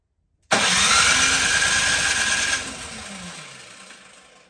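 A Craftsman snowblower engine, choke on, starts abruptly after a moment of silence, roars loudly at a steady pitch for about two seconds, then its sound eases and slowly winds down.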